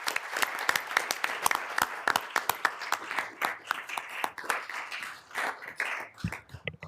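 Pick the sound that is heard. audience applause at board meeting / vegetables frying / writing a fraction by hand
audience applause at board meeting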